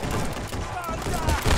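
Gunshots from a revolver or pistol in the Wild West VR game Guns'N'Stories, a brief burst of sharp reports with some distant rumble over about a second and a half.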